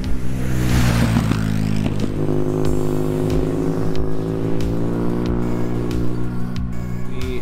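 Custom BMW R nineT motorcycle with a full Akrapovic exhaust, its engine revving loudly and continuously at close range, with a steady low harmonic drone and shifting pitch throughout.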